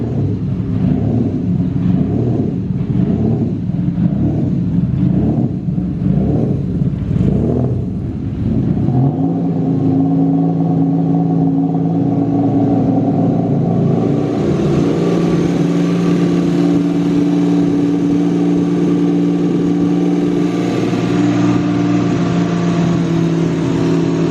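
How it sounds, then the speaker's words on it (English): A car that had not been started in ages cranks with rhythmic chugging, catches and runs, then settles into a loud, steady engine drone in neutral with rising revs. "Neutral, give it a rev."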